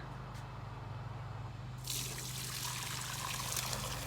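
A low hum, then fermented fish sauce (pla ra) starts pouring into a pot with a steady, close splashing trickle that continues to the end.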